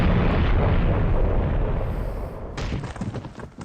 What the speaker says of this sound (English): the powerful blast blew me back